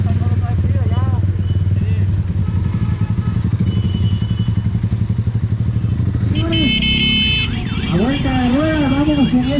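A loud motorcycle caravan parade at a village festival, engines droning and revving close by with rising and falling tones, while someone speaks over it and horns or sirens chime in later.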